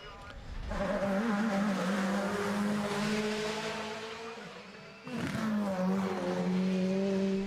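A loud 862-horsepower race car on a hill climb, its engine roaring at high revs, dipping briefly before a sharp renewed surge of acceleration.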